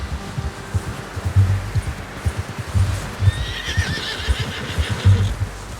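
Horse in the video game Red Dead Redemption 2 clip-clopping steadily with close, rhythmic hoofbeats, then giving a loud, wavering whinny over the hooves partway through, with no talk.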